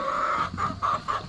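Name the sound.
chickens clucking in a muddy coop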